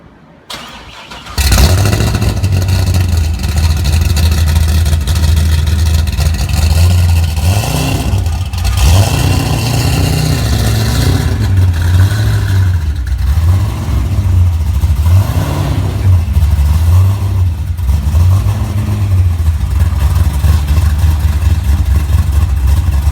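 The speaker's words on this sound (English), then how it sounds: "You want to hear that cold start?" A big-engined car cold-starting: a quick crank catches at about one and a half seconds, then a loud, steady deep idle runs close by with several swelling revs throughout, no talking.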